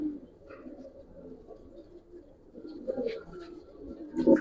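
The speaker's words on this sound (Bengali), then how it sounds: "একটা কবুতর একটু ধরে দেখাই দিই" Soft, low cooing of Giribaz pigeons repeats close by at moderate loudness, with a few faint rustles and bird sounds around it.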